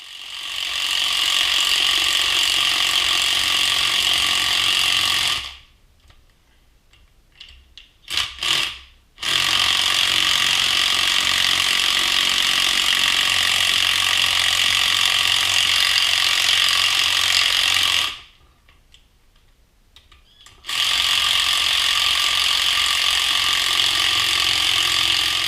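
Pneumatic impact wrench removing strut bolts on a BMW E39 530i, loud sustained hammering bursts of about five seconds, then about seven and five seconds, separated by near-silent pauses, no talking.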